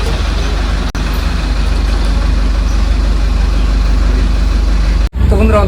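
A bus driving along the road from Canning, a loud, steady engine rumble and road noise close inside the vehicle throughout, briefly cut twice, with faint voices near the end.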